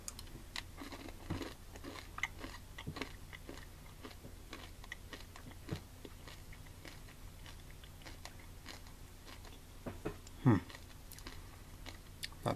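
Quiet, close crunching and chewing of Chili Nut M&M's, soft repeated bites and mastication ticks in a hushed room, with no talking over the eating.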